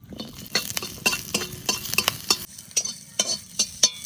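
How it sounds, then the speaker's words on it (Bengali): Green chilies frying in a wok sizzle under rapid, rhythmic spatula scrapes and clinks against the metal, close and fairly loud, with no voices. "কড়াইতে লঙ্কাগুলো একটু ভেজে নেবো প্রথমে।"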